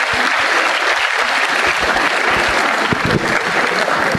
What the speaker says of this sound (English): I guess a big round of applause for all those people in the Deanery